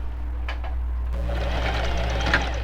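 A sewing machine stitches steadily backward along a seam while a dress is taken in at the sides, running close and continuous with a faint start-up click, and no voices come through.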